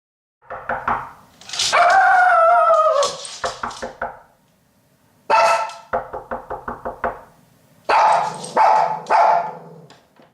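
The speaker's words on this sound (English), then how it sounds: "the barks had a unique sound depending on what situation the dog was in" A dog's barks recorded for a bark study come in close bursts: a long strained howl-like yelp, then quick sharp barks, a pause, another rapid string of barks and a final volley.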